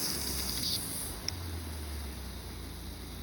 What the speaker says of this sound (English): Let's water some garden.